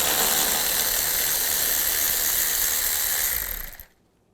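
A ratchet driving a 10mm socket grinds steadily while backing out a screw on a 2011-2015 Chevy Cruze, running loud and close before stopping abruptly near the end.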